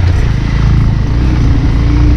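Motorcycle engine droning steadily and loud throughout a hill road ride on the way toward Taplejung, with constant low rumble and no talk over it.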